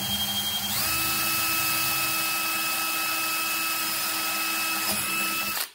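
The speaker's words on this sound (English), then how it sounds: "Go ahead and drill that." A power drill drilling a reptile enclosure panel whines at a steady high pitch for several seconds after spinning up, then winds down and stops; loud and close.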